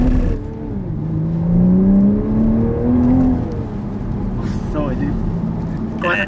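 A 2022 Toyota Supra's engine revs and pulls hard close by, the pitch climbing steadily in a rising whine before backing off, with a short sharp burst near the end and people talking over it.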